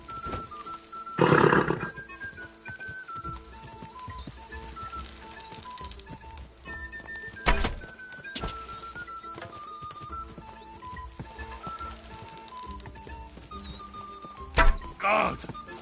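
A horse in Kingdom Come: Deliverance II gives loud, sharp neighs near the start, middle and end, over quieter hoof movement and a steady game soundscape, with a rider speaking calmly now and then.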